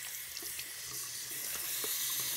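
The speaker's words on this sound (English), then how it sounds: "I'm just going to give them a quick little rinse down" A sink faucet runs steadily as shoes are rinsed under the stream, a continuous close splashing hiss with faint shifting spatters and no talking.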